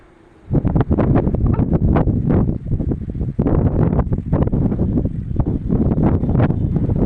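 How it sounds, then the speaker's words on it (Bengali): Strong wind roars and buffets the microphone in loud, continuous gusts after a brief quiet start. "শুধু হাওয়ার আওয়াজটা শোনো তাহলেই বুঝতে পারবে যে কি কতটা জোরে হাওয়া হচ্ছে"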